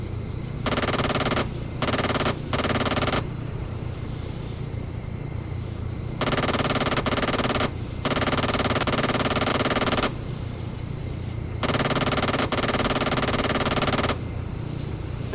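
A 20 mm cannon hammers away at troops on foot in a military video game, firing in sustained bursts of a second or two, then longer strings, separated by brief pauses over a steady low rumble.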